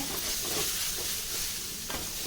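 A steady sizzling hiss from a hot pan fills the clip, with soft stirring scrapes underneath and no one speaking.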